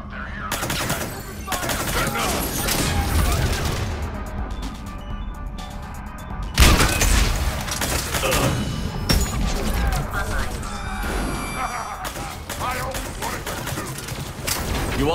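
Heavy, continuous gunfire in a close firefight aboard a ship's command deck in the video game Mass Effect 3 Legendary Edition, with rapid bursts and sharp explosive cracks, loud and dense throughout.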